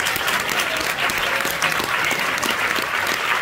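Loud, dense audience applause for the jury at the FEFFS 2024 closing ceremony, continuous and even throughout.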